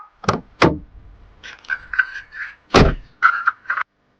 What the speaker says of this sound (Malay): Dia keluar dari kereta dan buka pintu belakang.